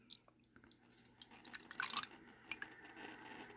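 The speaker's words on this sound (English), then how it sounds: "I'm going to pour it into our funnel." A liquid mixture is poured into a filter funnel and drips through into a 100 milliliter beaker during a lab, giving irregular wet trickles and drips that build to a brief splashy pour midway.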